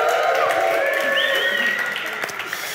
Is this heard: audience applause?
yes